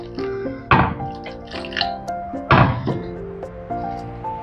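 Water is added a little at a time to semolina while it is stirred in a bowl, giving two firm thunks of the spoon and soft wet scraping in between. The sounds are fairly close and there is no speech.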